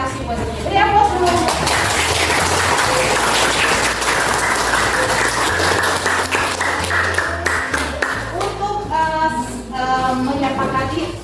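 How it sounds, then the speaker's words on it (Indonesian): A class of students applauds together in a classroom, a loud, sustained burst of clapping over about ten seconds, with children's voices and chatter mixed in throughout. "Beri aplaus dulu."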